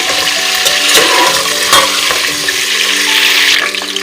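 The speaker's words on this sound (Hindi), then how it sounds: "इनमें पायों को मैं 4 से 5 मिनट के लिए फ्राई करूंगी।" Goat trotters frying in a pot produce a loud, steady hiss and crackle. Occasional stirring scrapes sound close up throughout, and the frying eases slightly near the end, with no talking.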